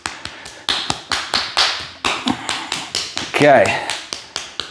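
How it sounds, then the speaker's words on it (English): Repeated sharp hand claps in a steady rhythm during a barefoot foot-care exercise session, fairly loud and close, with a voice speaking briefly over them. "Good clap."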